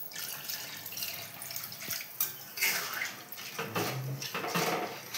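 Tamarind water poured into a cooking pan, a faint splashing and trickling liquid stream with irregular bursts and gurgles, close by with no talk.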